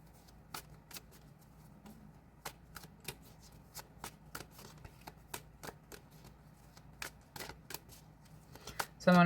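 A tarot deck is shuffled by hand and a card is pulled, giving a steady run of crisp card snaps and flicks at close range, ending in a louder rustling burst as the card comes out.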